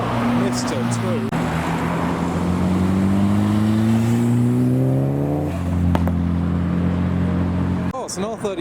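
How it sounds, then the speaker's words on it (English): A Nissan R32 tuner car drives up the road at a Japanese car meet in Reading, its loud engine revving steadily and rising in pitch, close and continuous. "It's an R32 coming down, he is flying up the road."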